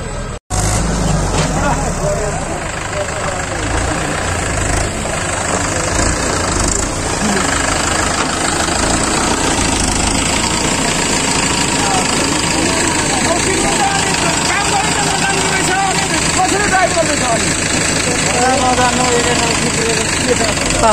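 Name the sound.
bulldozer engine working at a construction site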